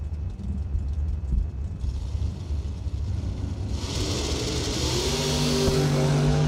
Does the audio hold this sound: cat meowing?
no